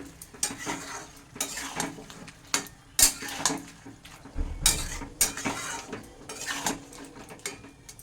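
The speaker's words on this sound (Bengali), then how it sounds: "দুই চা চামচ আদা বাটা এবার এইটাকে আমি ভালো করে একটু নেড়ে চেড়ে দিচ্ছি" Chicken with ginger and garlic paste being stirred in a pan, with repeated close metal clanks and scrapes of a spoon against the pot over a faint frying sizzle.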